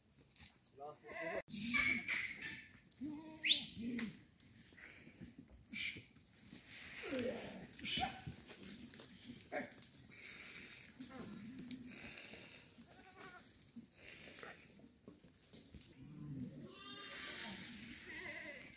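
Goats bleat at night in a Himachal village, their cries scattered and fairly close, mixed with rain patter while people chat nearby.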